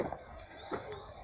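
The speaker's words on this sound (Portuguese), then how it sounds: "Ó o passarinho ali, que lindo." A small bird chirping in a park woodland in Brazil, giving a few faint, high, thin tweets and short upward whistles over quiet outdoor ambience.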